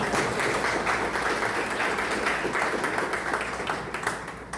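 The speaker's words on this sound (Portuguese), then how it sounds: "Palmas para ela." An audience at a live spiritual talk breaks into applause. The clapping is full and sustained at first, then gradually thins and fades toward the end.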